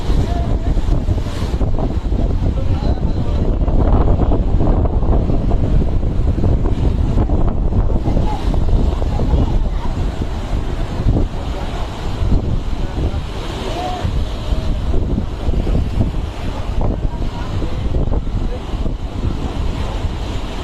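Stormy sea surf and gusting wind from Cyclone Remal, with floodwater pushed into a village of houses, make a loud, unbroken roar with wind buffeting the microphone throughout.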